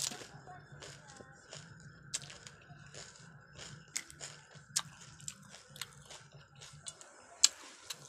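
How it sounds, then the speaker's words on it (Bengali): Someone eats crunchy fuchka (pani puri) with sweet filling up close, producing a series of sharp crunches and wet chewing clicks at an irregular pace over a faint low hum. "তাই এখন আমি ফুচকা খাই, তোমরা দেখো।"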